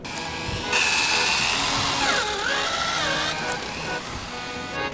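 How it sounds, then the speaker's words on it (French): A power drill bores holes for running cable through, a loud continuous whine whose pitch rises and dips as the bit works, steady for most of the stretch with no talk. "Perce des trous."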